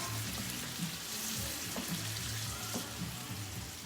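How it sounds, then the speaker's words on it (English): Crushed tomatoes simmer in a pan for deep-dish pizza sauce, giving a faint, continuous bubbling sizzle with small pops and occasional soft stirring sounds. "I'm going to add the tomatoes that are all crushed up. Ideally, you want this to simmer for a while"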